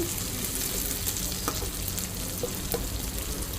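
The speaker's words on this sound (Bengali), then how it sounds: "এই দেখো নোটে শাক ভাজা বলে পেঁয়াজ লঙ্কা ভাজি শুরু করে দিয়েছি" Onion, chilli and garlic fry in hot oil in a pan, a steady close crackling sizzle with occasional sharper pops and no talking.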